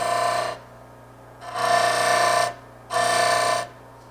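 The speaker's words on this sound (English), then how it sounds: "I've got a cove, so I'm going to have to get that with the gouge" A wood turning gouge cuts a cove into a tool handle on a spinning lathe, producing three steady, close hissing passes with short pauses between them over a low motor hum.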